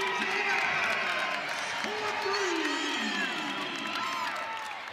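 A basketball arena crowd at the Lawler Events Center erupts in loud cheering and whooping at a Nevada women's basketball game against Fresno State, a big burst that slowly eases, with rising shouts over it.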